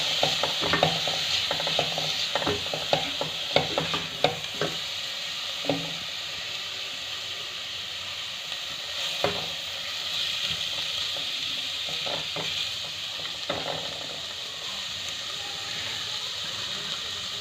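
A spoon scrapes and clatters against a pan while masala for macaroni-and-egg stuffed capsicum sizzles, with irregular stirring clicks early on, then a steady frying hiss.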